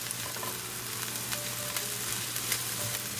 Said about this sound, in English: we're going to saute our onion until they become transparent